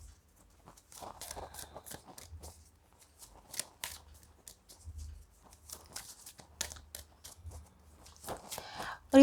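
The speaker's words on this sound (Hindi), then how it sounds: "सबसे पहले मैं 2 कार्ड्स निकालूंगी।" Tarot cards are shuffled and drawn by hand in a quiet room, with soft repeated riffling and flicking that is close and gentle and comes in uneven bursts and pauses.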